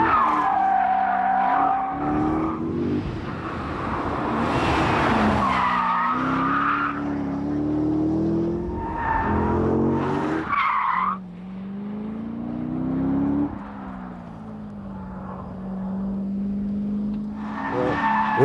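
A Chevrolet Corvette Z06 slides on the new asphalt of the Dreux circuit, its tires squealing loudly in long, wavering skids over a roaring engine that rises and falls as the car drifts.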